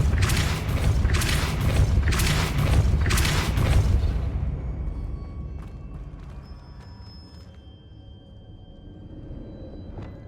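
A Repulsor spell is cast in the Hogwarts Legacy video game, giving a series of loud, heavy booming bursts in quick rhythm for about four seconds, then a fading rumble with scattered small clicks and knocks.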